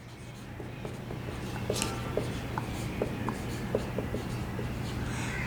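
Hand writing out a line equation during a second-year mathematics lecture, a soft, steady scratching of pen strokes with small clicks, close and quiet, with no talking over it.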